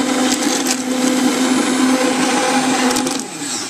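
A stick blender whirs steadily with a strained, labored motor tone, churning through thick liquid soap mixture up close with no voices.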